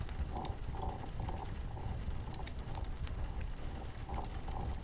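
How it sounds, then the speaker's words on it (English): Herbs being ground by hand in an 1800s London doctor's setting, a continuous rough grinding with faint rhythmic scraping strokes repeating under a steady background hiss. "Right now you need to grind those herbs."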